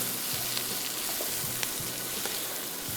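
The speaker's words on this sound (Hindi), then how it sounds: "साथ में हरी मिर्चें 5 से 6 अदद, और इस सारे मसाले को हमने थोड़ा सा करना है फ्राई" Spice masala frying with curry leaves and five or six green chillies for fish qeema, a continuous close sizzle with occasional small crackles and light stirring taps.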